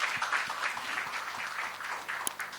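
Audience applause at a Hindi film event with Varun Dhawan, a soft, steady patter of many hands clapping, fairly faint and distant.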